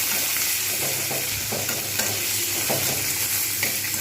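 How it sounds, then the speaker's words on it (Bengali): Onions fry in hot oil in a pan while a spatula stirs them, giving a steady close sizzle with repeated scraping strokes throughout and no talking. "পেঁয়াজটা দিয়ে আমি কিন্তু ভালোভাবে এটাকে ভাজবো।"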